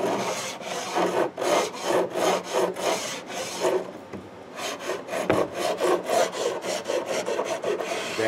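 Acoustic guitar fret ends and binding are filed and rounded over with a rasp, a close, loud rhythmic scraping of repeated strokes, with one brief pause midway.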